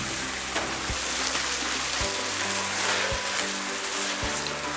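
Water sizzles and hisses steadily across a hot Blackstone flat-top griddle being cleaned and re-oiled before cooking pancakes, a continuous close frying wash with a low hum underneath.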